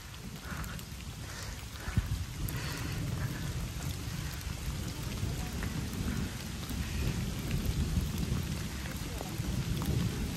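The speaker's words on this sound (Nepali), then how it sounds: "पानी पर्न थाल्यो होला" Steady rain falls in a continuous dense hiss, with low rumbling underneath that could be distant thunder, and no voices.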